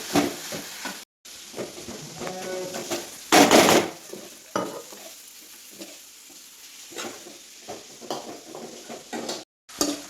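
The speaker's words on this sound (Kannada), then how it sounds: "ಇದೆಲ್ಲ ಹಾಕಿ ಚೆಂದ ಮಿಕ್ಸ್ ಮಾಡಬೇಕು" A spoon scrapes and stirs a tomato sauce mixture in a hot pan, with soft sizzling under irregular close scraping strokes and one louder clatter partway through, no talk.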